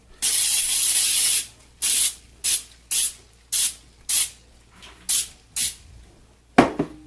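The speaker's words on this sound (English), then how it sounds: "Now I have some cooking spray here, so I'm just going to give these a quick spray." A long hiss of cooking spray followed by a rhythmic series of short spray bursts, close and crisp, with a small clatter at the end.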